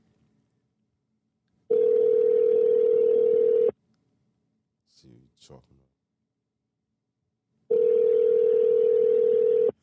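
Two long, steady electronic ringback tones of a phone call, each about two seconds, separated by a gap in which someone speaks briefly; the rings are loud and clear.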